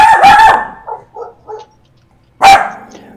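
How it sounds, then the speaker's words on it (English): A house dog barks loudly and close by during an online tabletop game session, setting off a quick burst of barks and yips, a short pause, then one more sharp bark. "He heard the barking through my headset and started barking."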